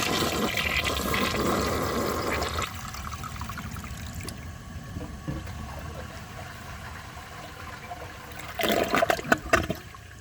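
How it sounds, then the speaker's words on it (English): A 2004 Gerber Aqua Saver toilet flushes with a loud rushing gush that subsides into a steady trickle as the tank refills, followed by a brief renewed surge of water near the end. "I'm going to give it another flush and see if it can pass"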